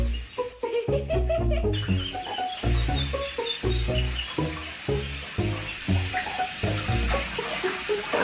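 Young featherless ducklings swim for the first time in a warm bath, splashing and paddling in water continuously and close by, with faint peeps mixed in.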